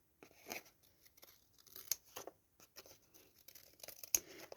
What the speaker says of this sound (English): I'm just going to snip up there.